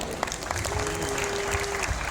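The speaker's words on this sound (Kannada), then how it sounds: "ಒಂದ್ಸತಿ ಜೋರಾಗಿ ಚಪ್ಪಾಳೆ ಬರಲಿ" An audience at a college event breaks into brief, dense applause for a film director and team. The clapping is steady but fairly quiet and lasts about two seconds.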